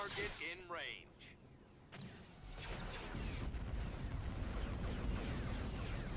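Heavy cannon and torpedo fire during a space battle in the Star Wars strategy game Thrawn's Revenge, a dense run of booming blasts and impacts that swells into a loud sustained barrage, with someone talking over it.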